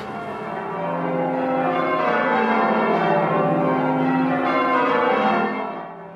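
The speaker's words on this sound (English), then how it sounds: "There's something about the sound of bells that's lodged deep within the British soul." Church bells ring in a steady, sustained peal with layered overlapping tones, loud and close, continuing without voices before fading slightly at the end.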